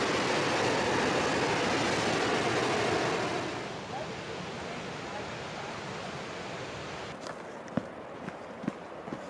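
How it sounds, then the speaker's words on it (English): Steady rushing water from a waterfall below a forest trail in the Maroon Bells near Aspen, Colorado, a broad continuous roar that softens after a few seconds, with a few faint clicks and footsteps near the end. "I think the waterfall's right here below us"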